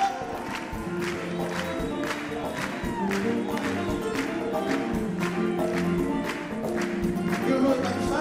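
An audience claps in a regular beat along to a live Angolan song, rhythmic hand claps ringing over music and crowd murmur throughout.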